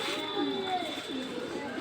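A large male racing pigeon held in the hand gives soft, low coos, faint and steady against a background hum, close to the listener.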